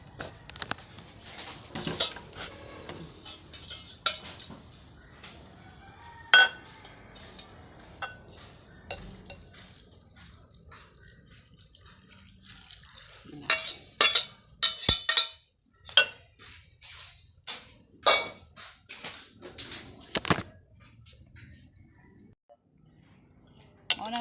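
A utensil stirring a pickle mixture in a pot, with irregular clinks and scraping taps in uneven bursts, some louder clusters near the middle and quieter stretches between.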